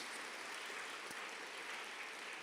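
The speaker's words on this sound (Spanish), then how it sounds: "Dale un aplauso al Señor." A church congregation applauds during a Spanish-language service, a faint, uniform wash of many hands clapping with no clear pauses.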